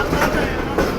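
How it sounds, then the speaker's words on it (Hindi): The Sir Syed Express runs on the rails in Pakistan, a close, steady rumble with rhythmic wheel clatter over the track joints. "Tezgam 7 up and 35 up sir Syed express"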